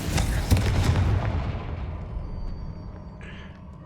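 The Confringo fire spell explodes in the Hogwarts Legacy video game with a loud, close boom that rolls out into a long rumbling decay over several seconds.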